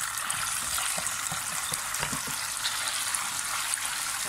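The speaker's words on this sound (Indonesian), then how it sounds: "seterusnya kita goreng tahu" Tofu fries half-cooked in hot oil, giving a steady close sizzle with a constant hiss and small crackling pops throughout.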